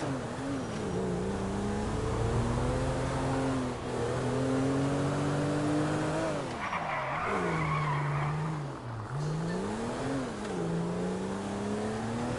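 A car in GTA Online drives around a city block, the engine rising and falling in pitch through revs and gear changes, with tires squealing and skidding in loud, continuous game audio.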